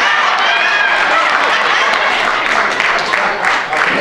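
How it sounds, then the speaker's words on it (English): A comedy club audience clapping on request, a loud, dense wall of applause mixed with crowd noise and a few raised voices, sustained and close. "clap for me again, please"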